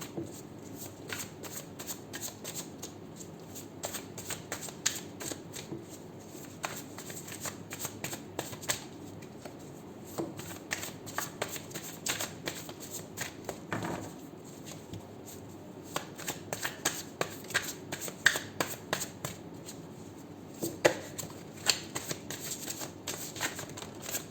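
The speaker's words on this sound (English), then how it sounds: "7 shuffles and we shall pull out cards for you" Cards being shuffled over and over, crisp riffling bursts and flicks repeating steadily at close range for the whole stretch, no voices.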